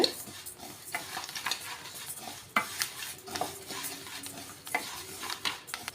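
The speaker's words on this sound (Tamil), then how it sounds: "ரொம்ப ஹையில் வச்சு வறுக்காதீங்க மீடியம் ஃப்ளேமில் வச்சு வறுத்துக்கலாம்" Rice dry-roasts in a pan over a medium flame for porivilangai urundai, with a steady run of soft scraping and stirring strokes and a faint sizzle close by.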